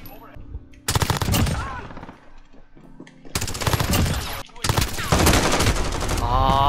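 A P90 submachine gun fires in a video game in loud rapid automatic bursts, three separate sprays broken by short quiet gaps, close and sharp.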